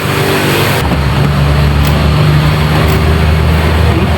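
A Chinese-made engine running on test after a new injector nozzle was fitted, a steady loud idle drone with a low hum throughout, no voices.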